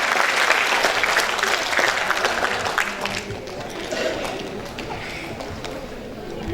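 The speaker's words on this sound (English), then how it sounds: "please give applause to Mr." A seminar audience applauds for a speaker pair, dense steady clapping from many hands that carries on for several seconds and slowly thins out, with a voice faintly underneath.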